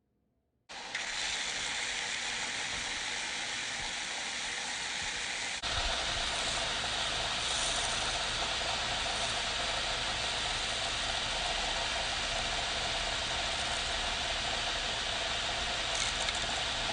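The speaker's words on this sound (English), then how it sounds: "I'll use my portable bandsaw just to cut off the excess pins" Portable bandsaw trimming excess metal pins on a knife handle, a steady loud whirring grind that runs continuously, shifting slightly in tone partway through as the blade bites.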